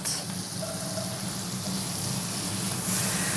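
Finely chopped shallot hitting hot fat in a pan for a sauce, a steady loud hissing sizzle that holds evenly and swells slightly toward the end.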